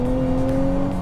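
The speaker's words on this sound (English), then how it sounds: "Under hard throttle, there's a little turbo whistle if you listen closely, but it's mostly engine growl." A 2023 Nissan Z sports car engine holds a steady, droning growl under hard throttle, heard close and continuous inside the car with no talk over it.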